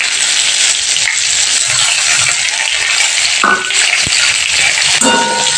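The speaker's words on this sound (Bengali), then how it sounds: "কুচিয়ে রাখা পেঁয়াজটা তেলের মধ্যে আমি অ্যাড করে দিলাম।" Chopped onion sizzles steadily in hot oil for a cauliflower curry, a loud continuous frying hiss with a few brief clinks of a utensil against the pan.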